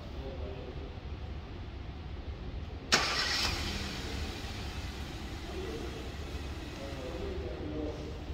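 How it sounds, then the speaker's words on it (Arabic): A 2024 Hyundai Elantra Premier Plus engine started remotely, a sharp click and crank followed by a low steady idle hum, set against constant background rumble and no talking. "هذا هو نظام التشغيل عن بعد."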